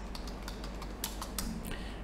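Someone types on a computer keyboard in quick, irregular bursts of light key clicks, close and fairly soft, with no talking.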